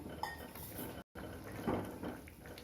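Cooked toor dal is spooned into a pot of snake gourd, with close metal utensil clinks and scrapes against the pot and soft wet thuds in a quiet kitchen, no one talking.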